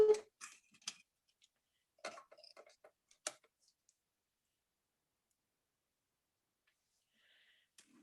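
A small mini cut-and-emboss machine used for card stamping gives a few sparse clicks and ratcheting ticks in short bursts, faint and close, separated by quiet gaps.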